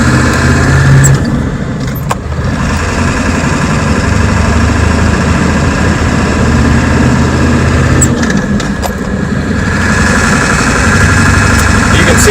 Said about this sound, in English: Driving it like this, I'm not giving it too much throttle, and it's going pretty good.